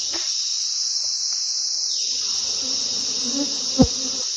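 Honey bees swarm around an open beehive on a cool day, a dense, steady high buzzing that fills the whole stretch, close and continuous, with one brief low knock near the end.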